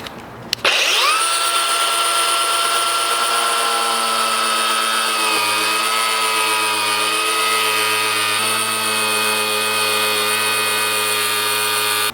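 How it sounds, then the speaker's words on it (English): An air cutoff disc slices a 5th-gen Toyota 4Runner front bumper along a taped line for a high-clearance Viper cut, giving a loud, steady high-pitched whine that kicks in abruptly and holds without a break. "using the cutoff disc and following our line here"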